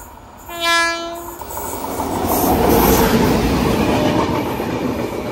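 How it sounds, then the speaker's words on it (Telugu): The SMVT Bengaluru–Howrah Superfast Express sounds a long horn blast, then rumbles past close and loud, its wagons clattering steadily as it goes by. "SMVT Bengaluru Howrah super fast express"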